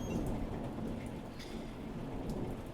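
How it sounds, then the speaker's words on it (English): Heavy, steady torrential rain pours down in a dense continuous hiss, with thunder rumbling low beneath it and no voices. "It's torrential downpour."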